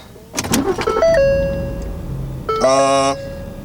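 A 2014 Ford Explorer with a hard-starting fault after refueling is keyed on: warning chimes ring, the engine cranks and catches into a steady idle, then more tonal chimes sound over the running motor.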